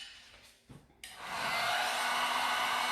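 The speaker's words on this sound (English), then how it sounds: "So now, let's use the heat gun." A heat gun starts after a brief pause and blows with a steady loud whoosh close by, used on a resin beach tumbler; faint handling noises come before it switches on.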